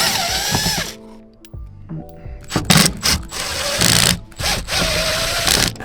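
A power driver backs Phillips head screws out of a Jeep Cherokee headliner, giving several loud bursts of whirring with short gaps between them, close to the mic and with no talking over it.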